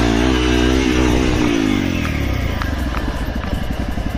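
A Hero Xpulse 200 motorcycle roars loud and close while riding. The engine note climbs and then drops into a rough, throbbing rumble, with no voices over it.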